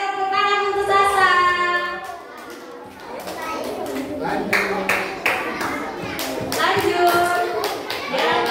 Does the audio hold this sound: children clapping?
yes